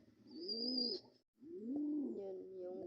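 Soft, faint pigeon cooing in two low, rolling phrases with a short pause between, accompanied by a thin high whistle-like tone at the start and faint background sounds.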